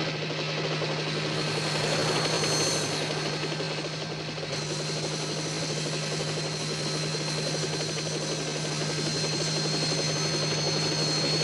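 A helicopter drones steadily nearby, rotor thrum and engine buzz holding constant throughout with no voices.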